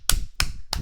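Three sharp, evenly spaced hand claps ring out close by, each a crisp slap with nothing else around them.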